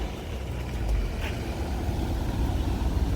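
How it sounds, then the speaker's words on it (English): Older Porsche pulling away on a downtown street, a low steady engine rumble at moderate distance mixed with general traffic noise. "but it sounds magnificent for an older car."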